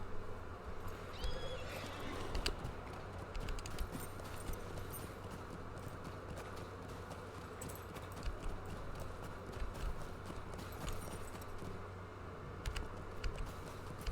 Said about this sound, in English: Let's get on a horse and head back down.